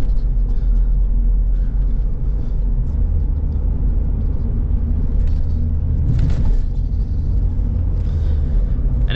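A lifted Volvo 940 on 235/75/15 Toyo Open Country tires driving hard, giving a steady, loud low road rumble and engine drone throughout with slight surges, no talking.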